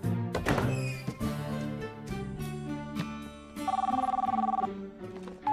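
A cell phone rings with a repeated electronic trill over a cartoon music score, with thumps and taps earlier in the scene; the ring is moderately loud and comes in one sustained burst.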